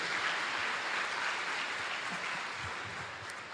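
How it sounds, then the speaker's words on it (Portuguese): Church congregation at a Sunday Mass for the Solemnity of the Holy Trinity applauds in a soft, steady, room-filling wash of many hands, slightly distant and tapering gently toward the end. "Uma salva de palmas à palavra de Deus."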